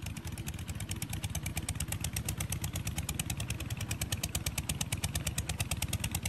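A Japanese walk-behind tractor's small engine runs steadily at close range, its rapid, even firing pulses holding a constant rhythm throughout with no voices.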